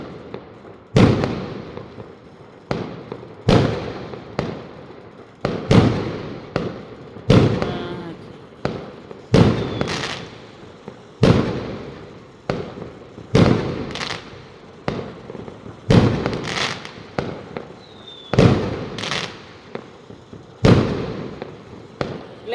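Fireworks bursting on Chinese New Year's Eve, a long series of loud, sharp explosions at a roughly steady pace, each booming and then rolling away, some close by and some farther off.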